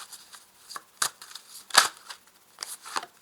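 Tarot cards being drawn and laid down: a few short, crisp papery snaps and slides spaced irregularly over a quiet background, close and fairly soft.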